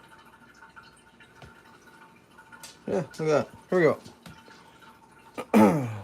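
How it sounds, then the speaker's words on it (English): Water running into a bottle, heard as a few short gurgling bursts that rise in pitch as it fills, fairly close, with someone talking briefly before and over it. "I'm filling a bottle of water right now, and it's kind of loud"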